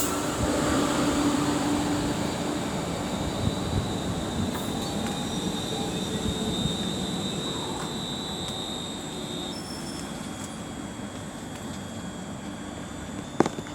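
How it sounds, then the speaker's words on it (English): A London Northwestern Railway train led by unit 35409 departs Marston Green on the West Coast Main Line, a steady rumble of wheels and traction with a faint squeal and a rising whine, heard fairly close without talk. "35409 is now getting ready to lead away the 1832 London Northwestern Railway service to Birmingham New Street"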